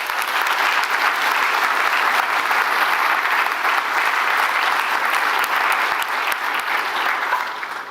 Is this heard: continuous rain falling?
no